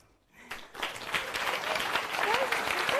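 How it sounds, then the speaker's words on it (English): Audience applause at a sustainability forum in Folkestone and Hythe, rising from a quiet start into steady moderate clapping that fills the room. "Enjoy that applause, Ruth"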